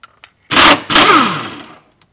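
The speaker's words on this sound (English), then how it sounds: "Now we're gonna hook it up to the air gun and remove it" A pneumatic impact gun rattles a rear control arm bolt loose on a car in a workshop, firing two loud, close bursts in quick succession, the second longer and trailing off as the bolt spins free.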